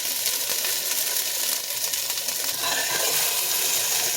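Potatoes browning in a pot for a one-pot vegetarian curry give off a steady, close sizzle and crackle of frying, continuous and fairly loud with no talking.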